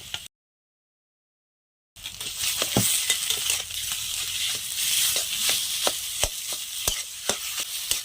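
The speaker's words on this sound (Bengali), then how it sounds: "আলুটা আমি দিয়ে ভালো করে নাড়িয়ে নিয়েছি" Mashed potato frying with onion, ginger and green chilli in a pan. A short silence gives way to a steady close sizzle, with a spatula repeatedly scraping and tapping the pan in an irregular rhythm.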